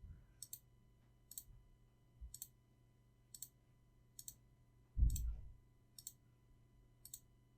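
A computer mouse clicks about nine times in a steady, evenly spaced rhythm, each click crisp but quiet, with a brief low thump partway through in an otherwise hushed room.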